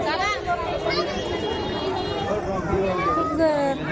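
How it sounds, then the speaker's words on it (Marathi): Crowd of pilgrims at Trimbakeshwar temple: a dense, continuous babble of many voices with scattered louder calls, close and steady throughout, with people talking nearby. "हे त्र्यंबकेश्वरची बघा गर्दी खूप"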